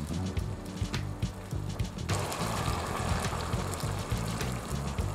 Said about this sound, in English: Pour in the water and the coconut milk.